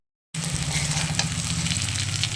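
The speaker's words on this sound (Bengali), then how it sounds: "এইবার আমি আবার পাঁচফোড়নটার সাথে একসাথে আমি ভেজে নেব" Panch phoron five-spice sizzles in hot oil in a pan, a steady, loud frying hiss with faint crackles that starts abruptly and holds without a pause.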